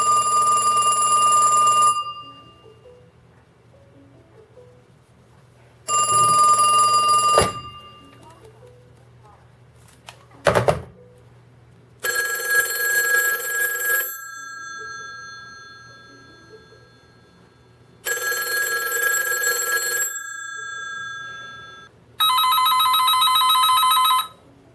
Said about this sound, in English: 70s house phone, and this is just a loud phone in general